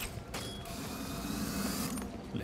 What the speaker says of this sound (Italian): Le porte della balconata sono aperte.